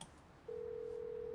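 Dialing from a public payphone in a film: after a short quiet stretch, a single steady electronic telephone tone sounds and holds to the end, close and clean with no talk.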